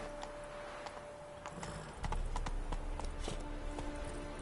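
Roach the horse galloping in The Witcher 3: Hearts of Stone, a quick rhythmic clip-clop of hooves on the ground, fairly faint and steady, growing a little fuller halfway through.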